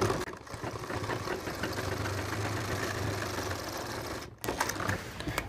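Sewing machine stitching a ticket pocket on a pair of trousers, a steady rapid mechanical whir running continuously at moderate level, pausing briefly near the end before resuming.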